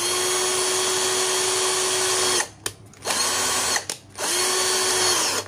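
XTITAN 21V brushed 13mm cordless drill running at steady full speed with a loud high whine, stopping briefly twice and spinning back up, heard close and alone.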